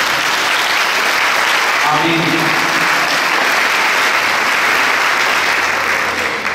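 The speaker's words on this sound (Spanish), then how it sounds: "Nadie le dio un aplauso al nombre de Cristo." A church crowd at a charismatic gathering breaks into loud, sustained applause that fills the whole stretch, with a voice briefly heard amid the clapping.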